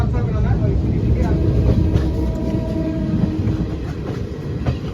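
A train rumbles steadily along the tracks entering Bidhannagar, with a constant low roar and faint rhythmic clatter, close and loud throughout.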